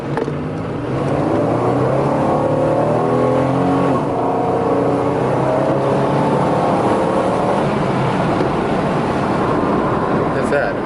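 A Pontiac Firebird T-top's engine runs continuously nearby, idling with a rough steady drone and rising and falling slightly as it is revved, with no talking.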